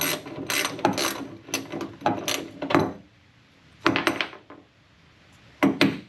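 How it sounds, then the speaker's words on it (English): An oscillating saw cuts off the threads of old boat engine bed bolts in harsh, rapid buzzing bursts. Long stretches of cutting are separated by brief pauses, and the sound is close and loud. "I decided to trim them off with this oscillating saw."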